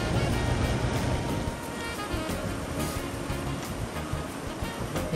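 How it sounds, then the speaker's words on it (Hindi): Meltwater runs through gaps in a mostly frozen river near the Khunjerab border area, a steady broadband rush of flowing water mixed with wind, loud and continuous throughout with no voices. "और पानी चल रहा है।"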